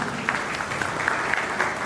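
An audience claps steadily for about two seconds at a Dhodia community felicitation ceremony held by an Adivasi organisation in 2025: a dense, even patter of many hands, fairly close, with no voices over it.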